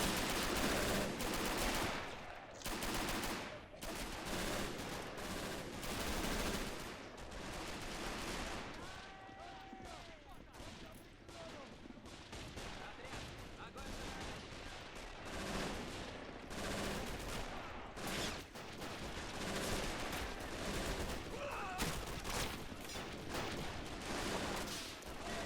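Dense WW2 street combat in the Battle of Berlin in the game Men of War Assault Squad 2, with continuous bursts of rifle and machine-gun fire and explosions, loud and chaotic, and a voice talking under the din.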